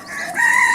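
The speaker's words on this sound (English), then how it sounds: "My favorite Yokohama bantam rooster" A red mottled Yokohama bantam rooster crows once, close and loud, a rising sustained call with no other sound around it.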